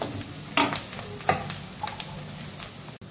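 Potatoes fry in a pan under a soft sizzle while a utensil stirs them with several distinct scraping knocks, close and brief.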